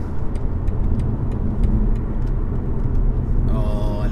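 A 2020 BMW 520d estate with a 2-litre diesel engine is driven hard, its low steady engine and road rumble heard from inside the cabin, with faint ticking over it and a brief higher tone near the end.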